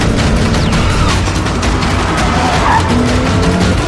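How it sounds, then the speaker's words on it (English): Lexus IS 350 F Sport tires squealing through a corner on a track, a loud, continuous broadband rush of car noise and tire scrub lasting several seconds with no one talking. "I can hear screaming tires."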